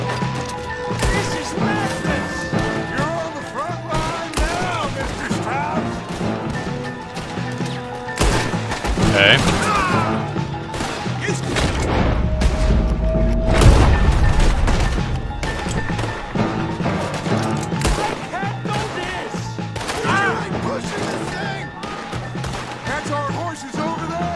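Gunfire in a Red Dead Redemption 2 shootout at Clemens Cove, with many enemies, booming shots and crashes scattered through a dense, continuous game mix, loudest around the middle, with a voice talking over it.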